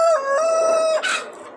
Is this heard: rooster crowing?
yes